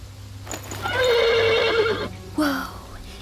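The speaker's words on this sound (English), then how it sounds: "The horse nearly woke the guard." A horse in a video game lets out a loud, drawn-out whinny with a falling pitch, followed by a shorter snort-like neigh, over a steady low background rumble.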